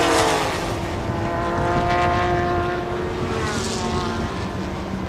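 The number 17 Porsche race car roars past on a circuit during a Thailand Super Series race, a loud sustained engine drone that swells and then fades as the car passes.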